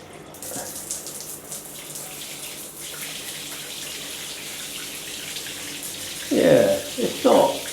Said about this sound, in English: Right, let's give the shower a go.